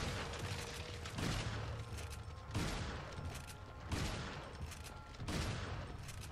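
Gunshots fired at a regenerating enemy in Resident Evil 4, four loud, evenly spaced blasts about every second and a half, each with a sharp attack and a long decaying tail.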